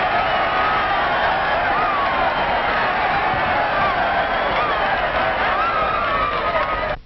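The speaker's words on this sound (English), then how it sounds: "and get a cheer like this" Crowd at a ball game cheering in a 1946 film, a continuous roar of many voices with whoops rising and falling, steady and full throughout before cutting off at the end.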